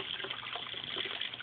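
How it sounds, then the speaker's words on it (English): Water gushes steadily out of a bell siphon in a small aquaponic system, a continuous close, soft rushing drain with no speech. "there's the water coming out there"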